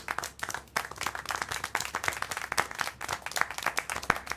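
Steady applause from a crowd in a video game, dense overlapping claps throughout at a moderate level with no speech.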